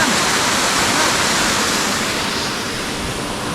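Rushing water of a waterfall on the Lidder River near Pahalgam, Kashmir, a loud, steady broadband roar close by, with no other distinct sounds over it.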